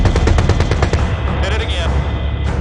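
Automatic weapons firing at a target in a war film, with a rapid, evenly spaced burst of loud, close shots that gives way to a rumbling, echoing tail and scattered movement.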